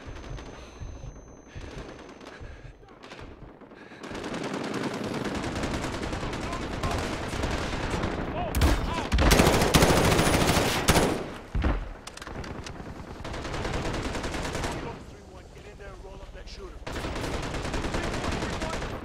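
Rapid automatic gunfire in a Call of Duty Modern Warfare firefight, long dense bursts of fast shots peaking loud in the middle, with a player talking over parts of it.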